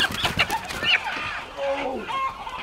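Chickens clucking and squawking in a barn as they are grabbed by hand during a large catch, short agitated calls scattered over rustling and a voice talking nearby.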